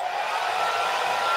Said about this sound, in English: I got my hair dryer on.